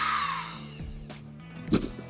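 A power drill whirring and winding down as it bores holes in a wiring box, fitted with large hole-saw bits, with a couple of short knocks and bursts near the end, close and fairly loud.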